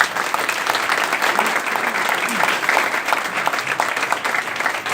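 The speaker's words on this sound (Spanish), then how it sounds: "un aplauso," Loud, sustained applause from an audience at a book presentation at a university campus, a thick, continuous roar of many hands clapping at close range with no break.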